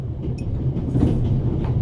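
Steady low rumble of a train rolling along in the video game The Raven: Legacy of a Master Thief, a continuous loud drone with faint rattling throughout.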